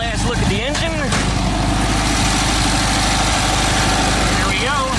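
A 23-window VW bus engine idles close by with a steady low rumble, someone talking over it at the start and end.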